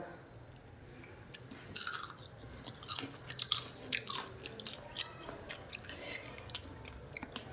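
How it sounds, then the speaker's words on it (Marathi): Crisp fried sabudana vada being bitten and chewed up close, a loud crunchy first bite followed by a steady run of smaller crackling chews, with no talking. "किती कुरकुरीत झाला आहे हे तुम्ही आवाज ऐकलाही असेल"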